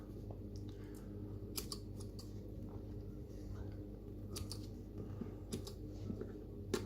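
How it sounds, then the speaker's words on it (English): Scissors snipping the edges of cotton wick on a Wotofo Profile vape coil build, giving several quiet, close crisp cuts in short irregular bursts over a low background hum. "Trim these edges off. Trim that other edge off."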